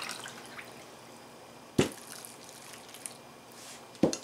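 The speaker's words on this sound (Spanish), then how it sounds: "Y vamos a comenzar poniéndole 1 tacita de agua." Water poured from a small cup onto a mix of sprouted grains and a little oil, landing as a couple of brief splashes over a quiet background.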